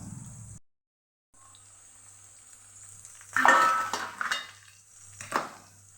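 Okra cooks in a covered pan over low heat, and a spoon clatters and scrapes against the metal in two bursts of stirring, close and fairly loud, with a quiet low hum and brief silence between.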